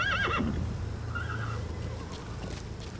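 A horse whinnies in the video game Metal Gear Solid V, a sharp wavering neigh at the start followed by softer snorts and a brief second call over a low background rumble.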